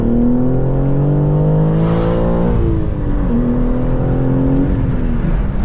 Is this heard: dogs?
no